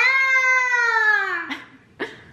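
A cat lets out a long, drawn-out meow that falls in pitch, followed by two short, sharp meow calls, loud and close in a house.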